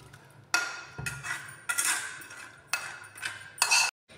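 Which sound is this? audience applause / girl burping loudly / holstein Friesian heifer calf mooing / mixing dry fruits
mixing dry fruits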